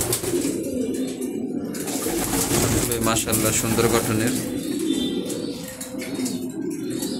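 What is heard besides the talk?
racing pigeons cooing in a loft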